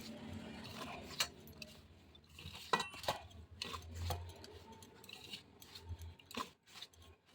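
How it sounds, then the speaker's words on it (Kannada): Quiet, irregular scraping and clinking of a spoon mixing chutney dough in a bowl, with scattered sharp taps and soft rubbing strokes, no voices. "ಯಾವುದಾದ್ರೂ ಒಂದು ಸ್ಪೂನ್ ಸಹಾಯದಿಂದ ಚೆನ್ನಾಗಿ ಮಿಕ್ಸ್ ಮಾಡಿಕೊಳ್ಳಿ."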